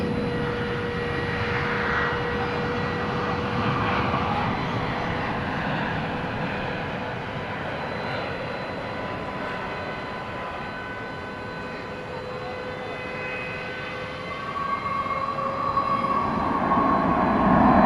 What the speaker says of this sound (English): Eva Air touching down right on the dot at 9 o'clock.